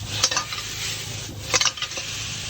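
Shrimp pad thai is stir-fried in a pan: soft frying sizzle under two sharp clusters of metal spatula clanks against the pan, close and brief.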